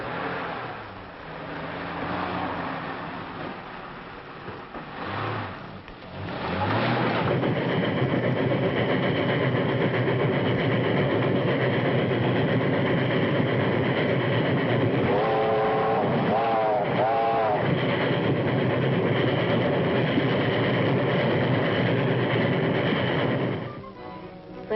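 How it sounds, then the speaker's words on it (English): A 1930s steam train rumbles steadily past with a heavy, continuous low roar, a few whistle-like tones rising briefly midway before the noise cuts off. "That's the train."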